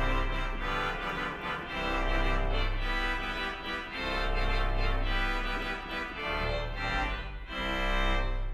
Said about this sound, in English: And then we've got the trumpet 8-foot, sounding like this.